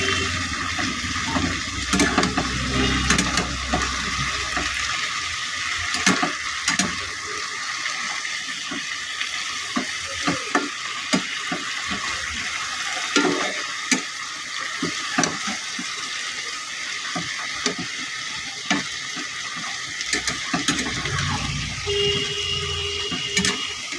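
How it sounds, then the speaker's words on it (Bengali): A spatula stirring ridge gourd in a pan over the flame, repeated scraping strokes and clatter over a low sizzle, close by, with no one talking. "এবার একটি খুন্তির সাথে নাড়াচাড়া করে নিচ্ছি"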